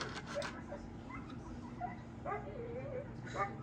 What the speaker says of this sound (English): Don't mind the dog in the back.